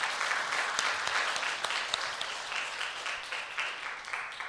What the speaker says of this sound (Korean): 우리 박수 한번 또 올려 드립시다